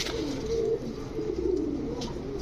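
A pair of Rajgolla pigeons coo softly and repeatedly, close by, with a low steady background hum and no talk.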